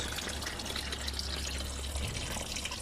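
Red antifreeze coolant draining from the water pump of a Land Rover Freelander 2.2 during a timing belt job, a steady close liquid trickle and drip with no talk.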